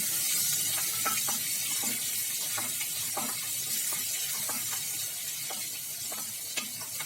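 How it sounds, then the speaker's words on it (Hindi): Green chillies crackle and pop in hot oil with cumin while potato and long-bean curry is being made, giving a steady sizzle broken by sharp, irregular little crackles close by. "थोड़ी सी हरी मिर्च तड़क जाएगी तो उसके बाद फिर हम मसाले डालेंगे"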